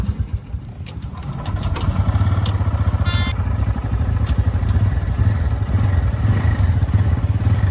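Honda Hornet 125 and TVS Raider motorcycles fire up side by side at the start of a drag race, engines idling and revving in a steady loud rumble with clattering, sharp transient clicks early on.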